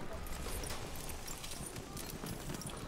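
Horse hooves clip-clop in a multiplayer squad video game, a steady patter of hoofbeats under dense game noise while players talk over it.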